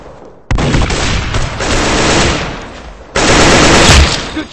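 Loud bursts of automatic gunfire in the video game Arsenal, a long rattling volley followed by a brief lull and then another heavy burst with booming impacts, close and dominant without talk.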